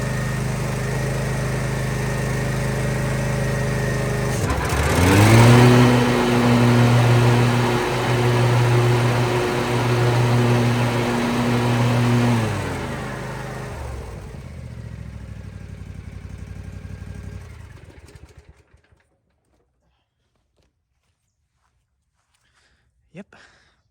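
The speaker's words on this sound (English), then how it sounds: "the noise that it makes when it sounds like a jet, kind of like a jet engine" A Cub Cadet 126 riding mower runs close by with its blades engaged, a loud, steady, droning engine roar with a jet-like whine that winds down and cuts out, leaving near silence and a faint click.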